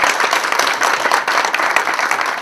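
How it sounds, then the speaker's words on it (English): A round of applause from the audience at a networking breakfast, dense steady clapping from many hands that holds evenly throughout. "Please give them a round of applause from our first timers."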